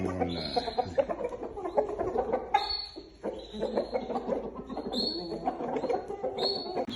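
Several roosters cluck and call close by in a busy poultry yard, a dense overlapping chorus of harsh clucks with occasional higher crowing-like calls running through the whole stretch.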